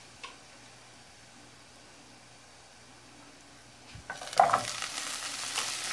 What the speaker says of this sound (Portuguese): eu tô dando uma douradinha aqui no alho que eu vou refogar o espinafre.